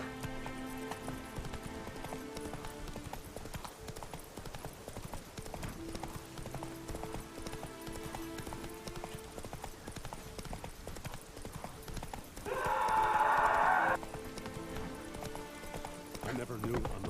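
Horse hooves clip-clop at a steady gallop in The Witcher 3: Wild Hunt, a continuous rhythmic beat under game music, with a louder burst of sound near the end.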